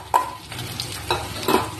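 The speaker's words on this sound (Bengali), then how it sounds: "নাড়াচাড়া করে পেঁয়াজ আর লঙ্কাটাকে ভালো করে ভেজে নেব।" Onions and slit green chilies frying in a whole cumin tempering, stirred in a pan with a few distinct scraping strokes over a low continuous sizzle.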